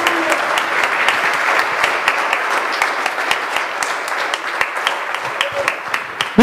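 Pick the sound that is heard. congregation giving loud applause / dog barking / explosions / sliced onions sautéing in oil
congregation giving loud applause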